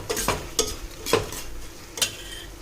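A utensil scrapes and clinks through fried egg and chicken in a hot pan for chicken fried rice, four sharp strokes over a faint sizzle.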